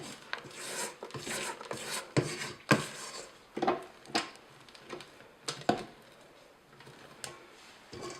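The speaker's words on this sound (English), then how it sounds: "we're going to scrape one more time" A spatula scrapes batter and flour around a mixing bowl for birthday cake, a run of irregular rubbing strokes and soft knocks, close and fairly quiet, with no talk.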